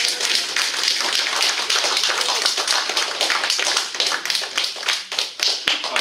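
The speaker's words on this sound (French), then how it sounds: "Et je vous demande de l'applaudir." Loud, dense applause from a crowd at a municipal election public meeting in France, a steady rapid patter of many hands lasting the full six seconds.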